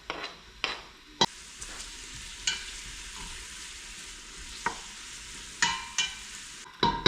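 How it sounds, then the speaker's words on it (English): Garlic frying in a pan, a steady broad sizzle with sharp clinks and stirring knocks from a utensil scattered throughout, close and moderately loud with no talking. "That's how I know it's time to add the garlic. So I'm just gonna throw that in the pan"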